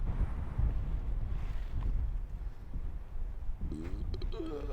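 Strong wind by a lake buffets the microphone with a loud, continuous rumbling roar, briefly joined near the end by a faint voice or call.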